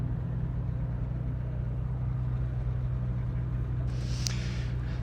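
Low engine rumble from idling cars at a secret car meet, a steady loud drone throughout with a brief hiss near the end.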